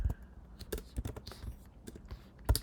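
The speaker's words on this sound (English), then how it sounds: "You could type that in here" Quick bursts of keystrokes on a computer keyboard while entering a city name into an email template editor, close and fairly quiet, clicking in short irregular runs with no voices.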